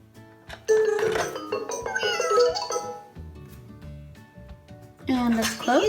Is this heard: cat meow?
yes